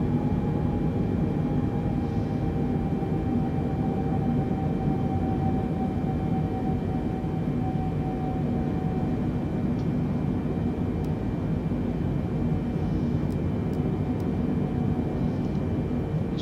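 Boeing 747-8 jet engines in Microsoft Flight Simulator, a steady, loud, continuous broadband roar with a faint tonal whine, unchanging throughout with no talking.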